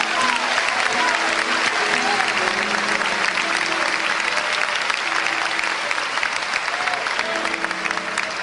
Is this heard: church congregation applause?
yes